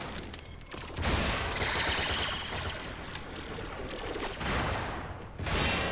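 Bursts of rapid gunfire from weapons in Warframe, coming in loud clustered volleys with short lulls between them over a rushing noisy background.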